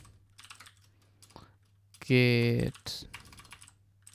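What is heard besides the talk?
typing on a computer keyboard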